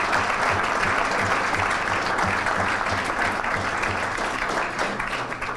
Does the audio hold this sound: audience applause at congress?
yes